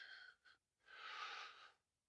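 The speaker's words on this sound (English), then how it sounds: "I'm breathing now, you can hear me." Heavy, strained breaths close to the mic: two short gasping exhales, a pause, then one long forceful breath out before quiet.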